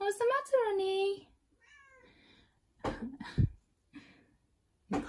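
A house cat meowing indoors in a home nail salon setting, a couple of drawn-out, rising-and-falling meows up close, followed by softer cries and some throat-clearing-like sounds, quiet overall.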